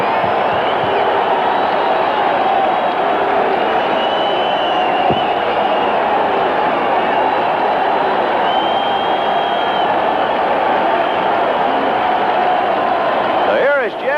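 Dodgers home crowd at a baseball game against the Giants in the ninth inning, a steady loud roar of many voices with scattered whoops and cheers rising throughout, a commentator's voice running over it.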